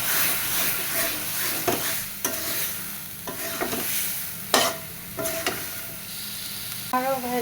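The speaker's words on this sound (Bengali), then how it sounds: "এবার ভালো মতো ভেজে নেব।" Taro leaves (kochu shak) fry in a pan, stirred repeatedly with a spatula that scrapes and clicks in bursts over a steady sizzle, close up with no talking.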